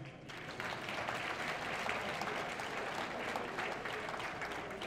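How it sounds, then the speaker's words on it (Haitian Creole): Audience applause fills a hall at a rally for judicial independence, a dense, steady wash of clapping that starts almost at once and holds loud and even, with no pause, for several seconds. "Et je vous demande de vous applaudir vous-même"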